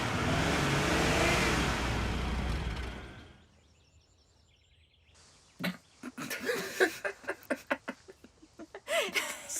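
A collector car's engine roars loudly and then fades away, leaving near silence before a series of sharp, close knocks and clatters follow.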